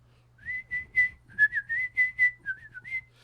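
A person whistles a tune alone, a bright, clear melody of about a dozen short notes with slides between them, close and fairly loud over a faint low hum.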